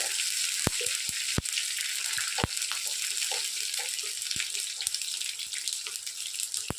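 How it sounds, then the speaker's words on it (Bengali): Chopped green chillies go into hot oil with mustard seeds and curry leaves for poha tempering, giving a steady loud sizzle broken by sharp scattered pops and cracks close to the pan. "কাঁচা লঙ্কা কুচিটা একই সঙ্গে দিয়ে দিলাম, দিয়ে একটু নাড়াচাড়া করে"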